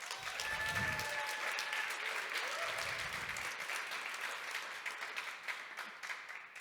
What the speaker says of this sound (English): a quick round of applause for them.